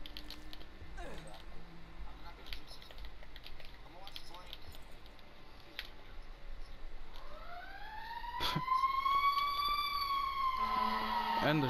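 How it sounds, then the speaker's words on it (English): A wailing siren sweeps up and down, growing louder in the last few seconds, over constant background noise and scattered clicks. "there's a freaking ambulance going"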